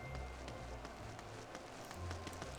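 Steady rain pattering down in an open-sky area of the Final Fantasy XIV game world, a continuous soft hiss with faint low tones running underneath throughout.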